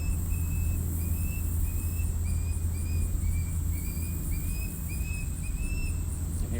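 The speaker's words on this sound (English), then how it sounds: "You can hear an unhappy bird in the background there." Faint, repeated high bird calls sound over a steady low rumble, like distant traffic or machinery, with no talking.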